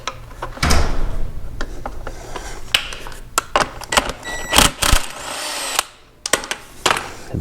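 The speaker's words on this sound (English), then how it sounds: "we've got to put the wrench on both sides here" A wrench working a 17 mm bolt on the swing arm link of a KDX200 dirt bike, with repeated sharp metallic clicks, clanks and scrapes in close irregular bursts, plus a few louder knocks.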